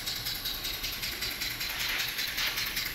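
A Maudslay model steam engine with a rotary valve runs smoothly on compressed air, giving a steady close rapid chuffing hiss with a faint rattle, continuous and unbroken throughout.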